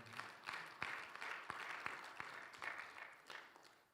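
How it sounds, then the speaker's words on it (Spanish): A church congregation gives a round of applause to the Lord during a sermon, modest, loosely timed clapping with a few sharp individual claps standing out, fairly quiet overall. "¿Cuántos dicen lo mismo y le dan un fuerte aplauso al Señor?"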